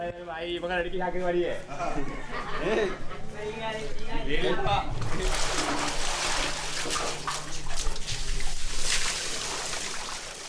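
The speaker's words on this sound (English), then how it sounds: "Every morning they wash at the village fountain." Water splashes and runs steadily as people wash at an outdoor village fountain, filling the second half after a stretch of voices and pigeon cooing, with talk heard over it.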